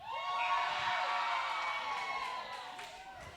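A crowd at an EPW professional wrestling show cheers and shouts steadily, a broad roar filling the hall that tapers slightly toward the end, with voices mixed in.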